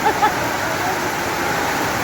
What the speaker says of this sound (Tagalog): grabe yung ulan, galit na galit.